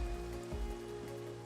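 Rain falls steadily in Minecraft, a soft continuous patter under a low background hum, brief and fairly faint.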